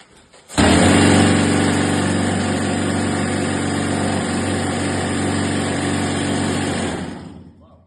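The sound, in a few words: loud compressed-air mining machine running in a gold mine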